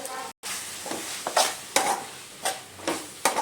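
A spatula stirs a frying curry mixture in a pan, giving repeated scraping strokes about every half second over a soft continuous sizzle, close and clear.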